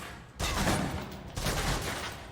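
Submachine gun fire in the video game Alpha Protocol, two loud sustained bursts of rapid automatic shots with a short gap between them and no talking.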